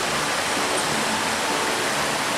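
A river rushing near a waterfall by a stone spectacles bridge in Yamato, Kumamoto, a loud, steady broadband roar with no break, heard alone.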